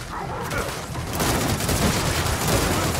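Boltok pistol shots in Gears of War 4 ring out amid dense, continuous combat gunfire and explosions, loud and overlapping rather than clearly separated.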